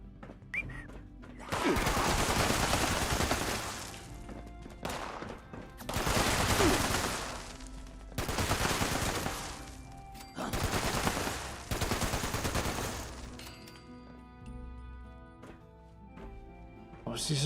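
An inaccurate gun fires in Fallout 76 in long, loud automatic bursts of several seconds each, separated by brief pauses, with faint talk underneath.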